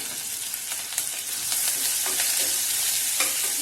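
Rice with grated ginger and curry leaves sizzles in a pan as it is stirred, with bright frying hiss and several scraping strokes close up, growing slightly louder midway.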